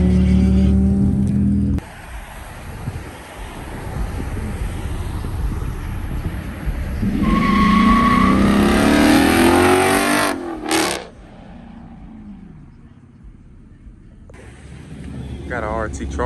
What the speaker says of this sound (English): GT Charger right here rolling up.